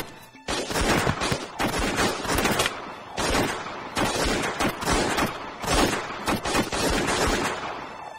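Gunfire in a film scene: dense, continuous bursts of shots ring out loudly for about eight seconds, sounding like a sustained fusillade with brief gaps between volleys.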